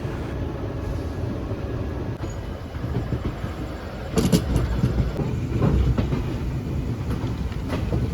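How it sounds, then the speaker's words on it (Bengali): The 18011 Chakradharpur Express pulling out of platform 20 at Howrah Junction, heard from inside a sleeper coach: a steady low rumble with rolling wheel clatter and a faint metallic squeal, growing slightly louder as it moves. "হাওড়া জাংশনের 20 নম্বর প্ল্যাটফর্ম থেকে আমাদের ট্রেন ছেড়ে দিল"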